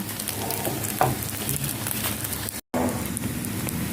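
Thai omelette (khai jiao) frying until crispy in hot oil, giving a dense, steady crackling sizzle with brief clinks of a utensil and a short dropout partway through.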